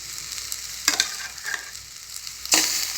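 Ground paste is stirred into vegetables frying in a pan for a bitter gourd (kakrol) kulambu, making a steady close sizzle with a few louder scraping stirs on top.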